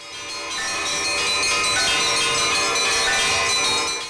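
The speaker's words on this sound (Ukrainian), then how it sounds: "Показати свої вміння у Вінницю приїхав унікальний ансамбль дзвонарів Подільські дзвони" Church bells rung by the Podilski Dzvony bell-ringer ensemble at a Europe Day celebration in Vinnytsia, Ukraine, a dense, continuous wash of overlapping ringing tones that sounds loud and steady throughout with no talking.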